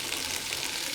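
Onion sautéing in butter in a kadai gives a soft, continuous sizzle close by, ending in a sudden sharp clink.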